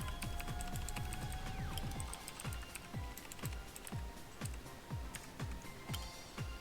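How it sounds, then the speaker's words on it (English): Computer keyboard being typed on in quick, irregular bursts of sharp key clicks, close to the microphone, with no one speaking over it. "what's happening to my keyboard?"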